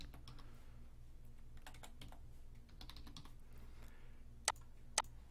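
Keys on a computer keyboard clatter in quick, soft bursts as a password is typed in, with two sharper clicks near the end standing out against a quiet room hum.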